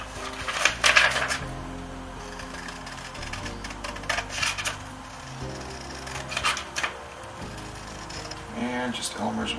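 The edge of a printed photo backdrop for a model railroad is cut close by, with short rasping scrapes that come in uneven bursts over a quiet background.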